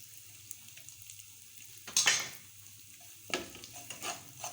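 Chicken powder, salt, dried coriander, turmeric and red chilli are stirred into lightly browned garlic sizzling in oil, with a faint steady fry under two sharper bursts of spoon-scraping and clatter against the pan.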